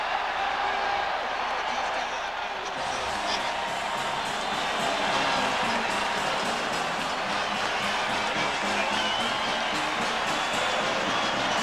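A stadium crowd in Milwaukee roars and cheers after a Green Bay Packers touchdown against the Tampa Bay Buccaneers in a 1990 NFL game, a broad sustained swell that builds and holds.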